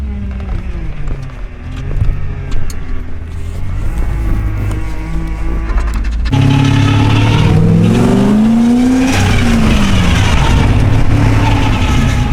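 A BMW E34 540i engine rumbles loudly up close, then surges into a deeper, rising revving roar that holds steady for several seconds.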